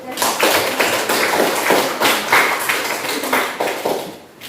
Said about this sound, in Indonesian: Kalau begitu tepuk tangan dulu.